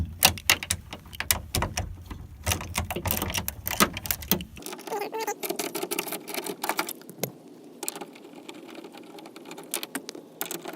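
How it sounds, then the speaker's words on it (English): A 10mm ratchet and socket clicks rapidly in bursts while removing mirror nuts from the door of a 1998–2002 Dodge Ram 2500, the ratcheting close and busy, then thinning into softer, sparser clicks. "get your 10mm ratchet and socket, and you're just gonna take all these off."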